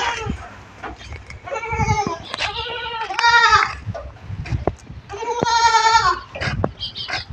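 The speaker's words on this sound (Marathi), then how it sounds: "हे पा ही शेळी तीन पिल्लाची आहे मित्रांनो हिलासुद्धा तीन पिल्ले झालेत" Goats and young goat kids bleat on a farm in repeated, loud, wavering cries close by, several overlapping calls with brief pauses between them.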